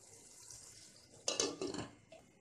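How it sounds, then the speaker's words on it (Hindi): Halved boiled potatoes are stirred in a metal cooking pot, then the lid goes back on: a short burst of scraping and clattering mid-clip over quiet kitchen background. "अब हम इसे एक बार चला लेंगे और इसे फिर से ढक देंगे।"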